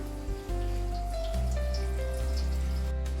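Warm water poured into a plate set over a pot of country chicken curry, giving a steady, close pattering and splashing that runs for a few seconds with no talk.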